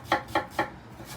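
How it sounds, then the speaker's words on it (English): Three quick knife chops through a red onion on a cutting board, evenly spaced and crisp, close by with no talking. "So I'm gonna chop the red onion first"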